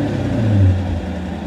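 A 2015 Chevrolet Corvette Stingray Z51 convertible with its exhaust opened up idles close by, a deep, loud, steady rumble with a brief swell in the middle and no talk.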